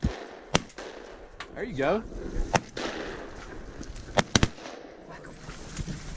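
Loud shotgun blasts ring out during a gadwall duck hunt in Alabama, a sharp single shot early on and then a quick double near the end, with hunters talking over the outdoor background.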